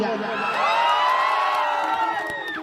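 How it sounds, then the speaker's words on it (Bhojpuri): Dense crowd cheering and whooping at a live stage show for a Bhojpuri singer, loud and sustained throughout with shrill voices on top; clapping is not clearly separable within the roar. "तनी ताली बजा"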